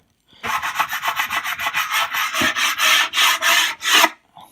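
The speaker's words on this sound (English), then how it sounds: "using just your Hive tool seems to scrape all the propolis off pretty easily" A metal hive tool scrapes sticky propolis off the underside of a melamine beehive feeder in a string of quick, rasping back-and-forth strokes, loud and close, growing slightly stronger toward the end before stopping.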